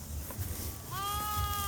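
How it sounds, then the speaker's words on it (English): A sheep flock of ewes and lambs gathered at the front of the pen at supper time on a farm, with one clear, close bleat rising out of a noisy background of the animals. "It's supper time, and the lambs and the mamas, the whole flock's together down here in the front."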